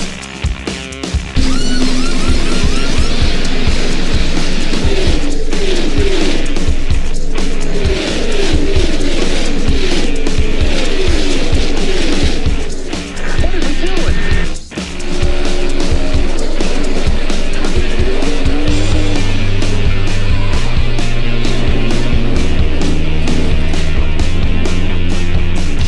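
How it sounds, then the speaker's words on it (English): Race car engines start and race in a loud, continuous roar with revving and passing whine that dips briefly midway, then resumes under a steady low hum. "Drivers, start your engines."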